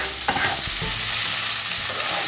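Onion, garlic and paprika sizzle steadily in a hot pan while a utensil stirs and scrapes through them, a few clear scraping strokes over continuous close frying noise, no voices.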